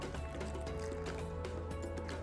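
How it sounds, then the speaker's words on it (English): Cool water pours steadily into a bowl of baking mixture, a continuous close liquid fill with a few drips and squishy sounds over a low background hum. "Okay, so now we're going to add 1/4 cup of cool water"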